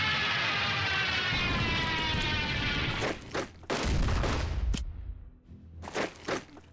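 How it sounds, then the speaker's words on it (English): Flying artillery bombardment in the World War II strategy game Unity of Command 2, with a rolling roar of aircraft and rumbling blasts followed by a few sharp booming impacts that thin into scattered bursts. "So we're going to use flying artillery."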